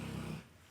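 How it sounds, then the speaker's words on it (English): A dog growls in a short, low rumble nearby in a quiet room, lasting under half a second before fading. "Ignore that, that's my dog."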